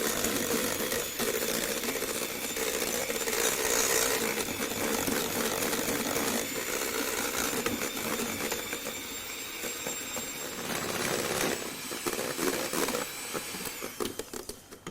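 An electric whisk runs continuously, whirring loud and close as it beats eggs and sugar for a toffee apple cake batter, with a steady buzzing drone throughout and no talking.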